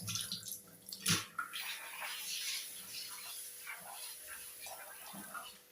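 Water splashing and swishing as rice is washed by hand, uneven close sloshes with a short running stream, fairly faint.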